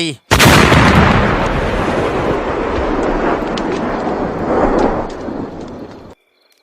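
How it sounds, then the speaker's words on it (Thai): A gunfire sound effect in a Thai radio drama bursts in suddenly and rolls on as a loud, sustained distant roar and rumble for several seconds, then cuts off abruptly into silence. "เสียงปืนดังลั่วมาแต่ไกล"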